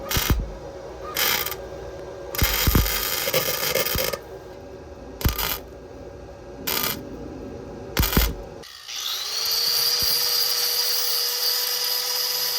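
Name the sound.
tack welding a sheet metal hood stack shroud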